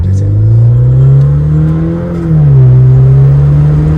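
A car fitted with a throttle controller accelerates, its engine drone loud and close, rising steadily in pitch with a brief dip midway before climbing again.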